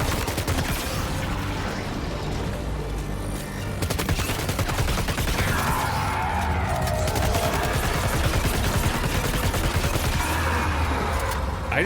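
Sustained, loud gunfire in the video game Death Stranding 2, with continuous rapid shots packed tightly together over a busy, noisy background, and no voices.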